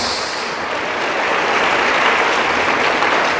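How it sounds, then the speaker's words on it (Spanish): A church congregation at a Sunday school service in Quetzaltenango, Guatemala, claps loudly and continuously, a thick, even roar of hands that fills the space without pause. "Denle un aplauso al Señor fuerte porque Él lo merece."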